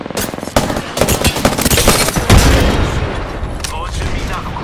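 Rapid gunfire and booms in the battle royale shooter Apex Legends, loud close bursts of automatic shots at the start easing into scattered fire, with speech mixed in.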